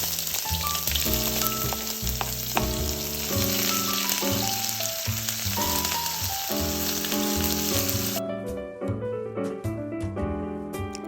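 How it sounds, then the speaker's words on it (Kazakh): Onions fry in hot oil in a pan, a continuous bright sizzle that runs under prominent background music with melodic notes throughout. "Пиязды сарғайғанша қуырамыз."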